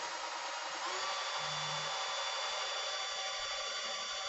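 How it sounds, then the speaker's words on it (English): Masonry bit drilling into plastic, a continuous high whining drill buzz with rubbing and grinding, steady and close throughout. "So masonry bit is the bit you want to use."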